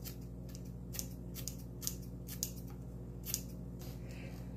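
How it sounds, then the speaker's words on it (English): Several quick, crisp scissor snips cutting green onions at an uneven pace, close and fairly quiet over a steady low hum. "I'm going to use my little scissors to cut them."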